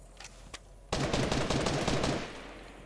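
Rapid video game gunfire erupts in a loud, dense automatic burst lasting about a second, after a couple of isolated single shots, then fades.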